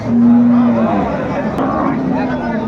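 A cow with her calf at a busy cattle market moos once, loud and close, a drawn-out low call. Market voices and background chatter carry on under and after it.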